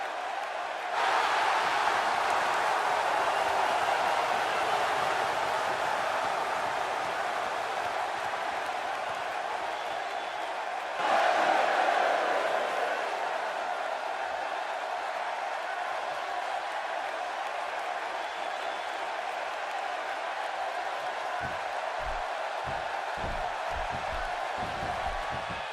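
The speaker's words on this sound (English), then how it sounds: "Let me just say that, like this crowd, my feelings toward the so-called Hitman are mixed." A wrestling arena crowd reacts to Bret Hart's entrance with a steady, distant roar and scattered cheering that swells briefly midway, continuing throughout with no talk over it.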